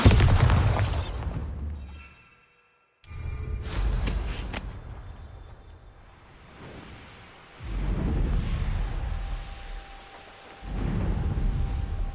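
Deep booming blasts from the Bombarda spell in Hogwarts Legacy, several loud rumbling explosions separated by brief quiet gaps, each decaying into a low roar.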